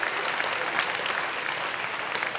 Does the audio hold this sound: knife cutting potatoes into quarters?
no